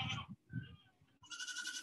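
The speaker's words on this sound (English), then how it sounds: "Those are the goats." Goats on a farm pasture of about two acres bleat in several loud, close wavering calls, one after another with short gaps between them.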